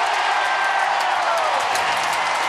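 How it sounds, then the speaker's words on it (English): A dense, continuous roar of a cheering crowd fills a baseball stadium during a Cubs vs. Giants game, broad and sustained with no breaks, with faint scattered claps and whistles mixed into the wash. "listen to this crowd."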